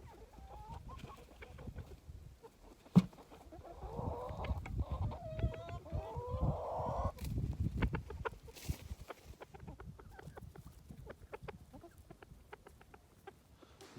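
Chickens cluck and murmur in a scattered, uneven stream, with a few louder calls and clunks of movement nearby in an otherwise quiet yard.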